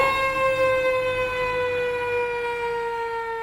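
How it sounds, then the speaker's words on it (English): An emergency vehicle siren holds a steady, loud wail that slowly drifts lower in pitch, heard alone and fairly close. "When a fire truck blares its siren or a police car zooms down the street"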